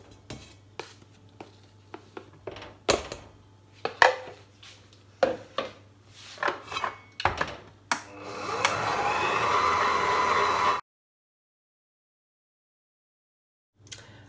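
Brioche dough is mixed as the remaining flour goes in: scattered knocks and clatter of a bowl come first, then a mixer whirs steadily for a few seconds before cutting off to silence.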